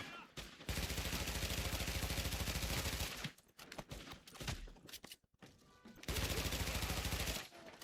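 Rapid automatic gunfire in the video game The Division comes in two long sustained bursts at the start and end, with broken shots and combat noise between them. It is loud and close with no talk.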